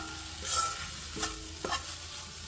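Food sizzles in a pan as a spoon stirs and mixes a quick tomato chutney with chilli powder, giving a few soft scraping strokes over a steady frying hiss.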